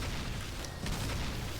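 Explosions in the video game Final Fantasy 3 Pixel Remaster, a dense, steady wash of low rumbling booms with a couple of brief bursts, moderately loud and continuous.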